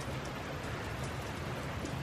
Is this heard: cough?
no